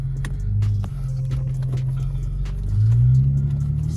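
Infiniti G35 being driven, engine rumbling steadily from inside the cabin with a low drone that rises slightly as it accelerates.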